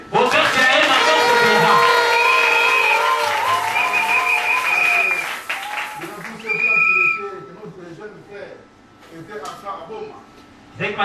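Church congregation cheering and applauding loudly for a pastor, a dense burst of clapping and whoops with shrill whistles that fades after about five seconds into scattered claps and voices.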